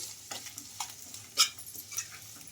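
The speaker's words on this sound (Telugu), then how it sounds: "ఈ పసుపు పచ్చివాసన పోయే వరకు అయితే బాగా ఫ్రై చేసుకోవాలి" A turmeric and salt mixture fries quietly in a pan while a spoon taps and scrapes now and then, with one louder clack near the middle over a faint low sizzle.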